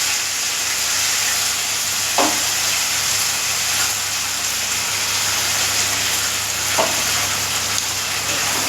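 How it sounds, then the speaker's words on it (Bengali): Spice masala frying in a pan gives a loud, dense, continuous sizzle like heavy rain, with two clear scrapes of a spatula stirring it, close and without speech. "মশলাটা খুব ভালো করে কষিয়ে নেব।"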